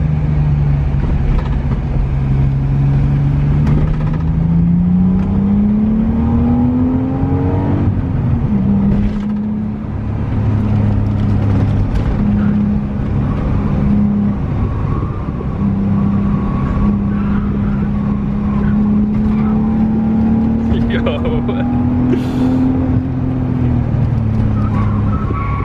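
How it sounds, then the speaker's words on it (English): A supercharged BMW E36 track car drives on a circuit with a steady loud engine drone and a rising and falling whine as it accelerates and shifts, close and continuous throughout. "You hear like a little bit of a whine? Yeah, I hear it. Just a supercharger"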